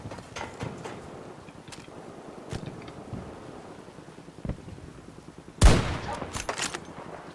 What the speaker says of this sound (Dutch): hier moet ik wel mijn pistool even gebruiken